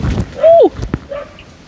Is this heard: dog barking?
yes